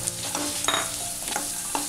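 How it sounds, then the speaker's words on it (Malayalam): Raisins frying in ghee in a pan while being stirred for biryani, a steady close sizzle with scraping stir strokes throughout, no voices. "മുന്തിരിയും മൂത്തിട്ടുണ്ട്"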